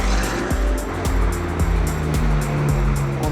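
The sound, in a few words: McLaren 720S and BMW F90 M5 cars testing on circuit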